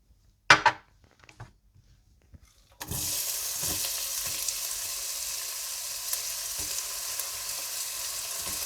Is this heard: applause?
no